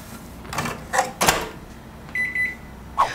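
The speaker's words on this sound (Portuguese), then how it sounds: "Ó, tira do micro-ondas." A microwave oven that has cooked a washed potato for four minutes in a home kitchen gives a steady electronic beep between scattered clunks and clicks of the door and handling.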